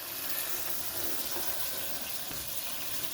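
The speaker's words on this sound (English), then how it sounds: "So we'll get that coolant out of there" Coolant draining from a 1983 Mercedes 300CD makes a steady, continuous liquid rush like a running tap, even and moderately quiet throughout with no pauses.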